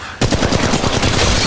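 Rapid automatic gunfire in the mobile shooter Apex Legends Mobile, a burst of close, loud shots in quick even succession starting abruptly and continuing to the end.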